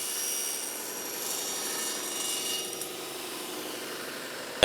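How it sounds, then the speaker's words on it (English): A saw blade runs steadily as a jig pushes scrap wood through for a cut, giving a constant whine and hum with a shift in tone partway through and a sharp knock at the end. "Make the first cut, pushing the jig all the way to the outfeed side of the blade."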